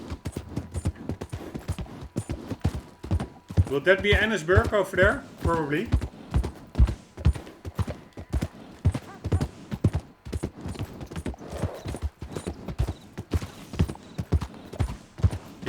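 Horse hooves clip-clop steadily in Red Dead Redemption 2 as the rider travels at pace, regular close thuds running the whole way under occasional talk from the player.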